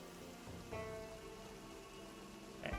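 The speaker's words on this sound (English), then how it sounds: "So maybe Teresa Day doesn't mind the rain quite so much as she used to." Steady rain patters on surfaces in the video game Project Zomboid, a soft, even hiss that continues throughout with a couple of faint knocks and no speech.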